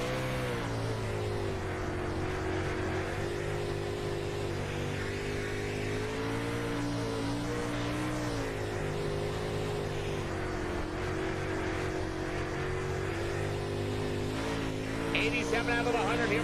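Super Late Model stock car running laps on a slick short oval during a 100-lap race, a steady loud engine drone with shifting pitch throughout, a commentator talking over it.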